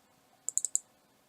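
Four quick, crisp mouse clicks in close succession, sharp and near, against a quiet background with faint room hum.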